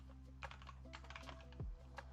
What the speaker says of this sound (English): I went ahead and got it with the red switches and the aluminum bezel